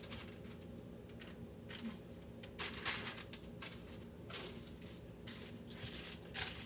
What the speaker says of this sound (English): Give it a little spray with the cooking spray so that they don't stick.